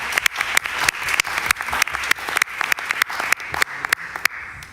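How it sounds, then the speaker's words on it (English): Audience at a European literature night applauding a writer, close, loud clapping with distinct sharp claps over a dense even patter, sustained for several seconds and easing slightly toward the end. "A round of applause."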